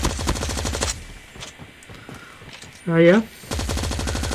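AK117 assault rifle hip fire in the mobile shooter COD Mobile: a rapid automatic burst, a pause with a brief spoken word, then another sustained burst of loud, close gunfire.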